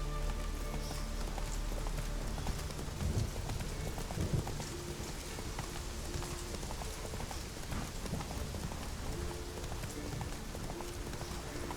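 Roach's hooves in The Witcher 3, a steady galloping clip-clop on the ground beneath rain and ambient game sound, moderately faint.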